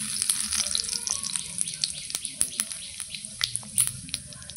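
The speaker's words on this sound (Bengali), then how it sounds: "আর একটু তেল দেবো, এই যে তেল, ফোড়ন দিয়ে দেবো" Cumin seeds with a bay leaf and dried chilli crackle in hot oil for tempering, scattered sharp pops over a soft sizzle, growing sparser toward the end.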